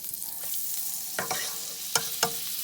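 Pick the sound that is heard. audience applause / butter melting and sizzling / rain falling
butter melting and sizzling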